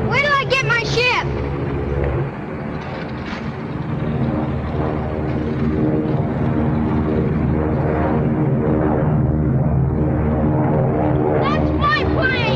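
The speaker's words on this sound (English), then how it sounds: "You know what Tommy said about keeping the field clear for planes to land." A steady droning propeller airplane engine runs throughout, a low harmonic hum with a brief higher whine at the start, mixed with voices talking over it, from a 1939 film.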